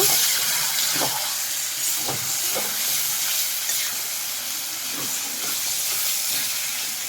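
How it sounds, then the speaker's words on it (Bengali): Marinated chicken frying in a pan for a curry, with a continuous hissing sizzle and periodic scraping stirs spaced a second or so apart, close and fairly loud, no talking. "দিয়ে দিলাম ম্যারিনেট করা মাংস বেশ ভালো করে কষিয়ে নেব"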